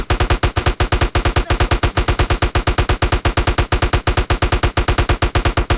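Rapid automatic gunfire from GTA: San Andreas, a dense, evenly spaced stream of sharp shots rattling on without pause, loud and close with no talking.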